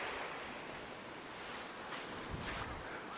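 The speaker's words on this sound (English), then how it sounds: "Sangju Eunmore Beach." Surf washes steadily onto Sangju Eunmore Beach in Namhae, a broad continuous hiss of breaking waves with a brief swell near the end, mixed with some wind rumble and no voices.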